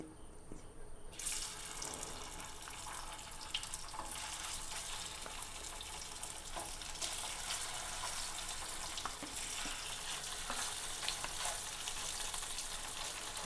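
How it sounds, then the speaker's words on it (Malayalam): Three or four marinated mackerel pieces fry in a hot pan with a steady, loud sizzle and crackle that starts abruptly after a second of near-quiet and continues unbroken. "ഒരു മൂന്നാല് കഷ്ണം അയില ഞാൻ വറുക്കാൻ പുരട്ടി വെച്ചിരുന്നിട്ടാ അതും കൂടി വറുക്കണേണ്"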